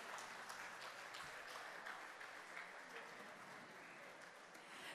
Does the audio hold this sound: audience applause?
yes